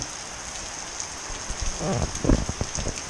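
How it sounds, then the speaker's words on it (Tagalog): Rain falls steadily in a flood-prone home area, a constant hiss with heavier splashes and drips hitting nearby surfaces growing more prominent toward the end. "lumakas na naman yung ulan"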